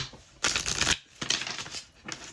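Cards are riffled and shuffled in a few quick bursts, crisp fluttering rustles up close, separated by short pauses.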